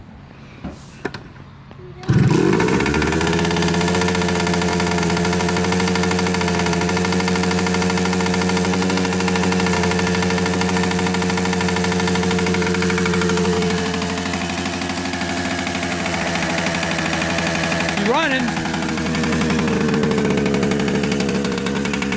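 A Kawasaki KE100 motorcycle engine with a suspected bad head gasket and stale fuel, running on choke after a cough to life: a steady, loud, close idle holding for about twenty seconds, dipping slightly midway.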